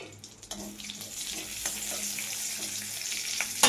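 Whole cumin seeds, dried chilli and bay leaf fry in hot oil in a wok, a steady bright sizzle with occasional crackles and a louder pop at the end, close up with no talk.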